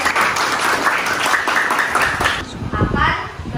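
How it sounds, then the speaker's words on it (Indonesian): A room full of people claps in applause that fades out after a couple of seconds, followed by some movement and chatter. "beri tepuk tangan untuk Mbak Nabila."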